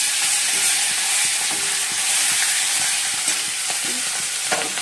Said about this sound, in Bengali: আর এদিকে মাছ ভাজা বসিয়ে দিয়েছি।